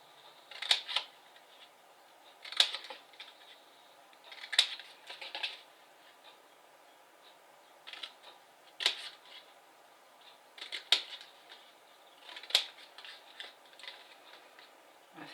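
Card for a gift box lid is cut and notched in a quiet room, with a series of short, crisp snips and clicks repeating every second or two.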